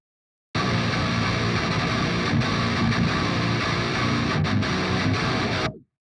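Heavily distorted metal rhythm guitar through a Laboga Mr Hector Suite amp with a boost drive and DS412 cab, a dense, loud, chugging riff starting abruptly and cutting off after about five seconds.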